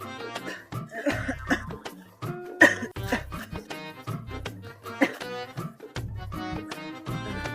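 Repeated harsh coughing bursts in irregular fits, close and loud, with short pauses between them.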